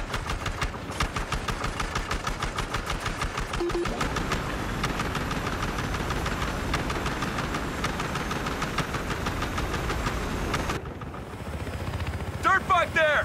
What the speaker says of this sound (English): They got a transport chopper!